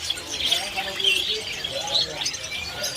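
Caged birds, including a jalak kebo starling and canaries, call and squawk with repeated short chirps at a busy bird market in Pasar Pramuka, Jakarta, while people talk nearby throughout.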